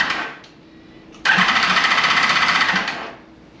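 An '02 Yamaha FZ1 1000cc motorcycle engine runs on starter fluid, first faintly, then catching and revving loudly with a buzzing, rapid rhythm for about two seconds before dying away.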